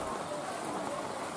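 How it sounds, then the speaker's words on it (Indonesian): Rain falling on Merauke, a steady, even hiss of downpour with no breaks, moderately loud and continuous throughout. "Hujan yang mengguyur Merauke sejak Sabtu dini hari menyebabkan sejumlah kawasan di kota Merauke tergenang air."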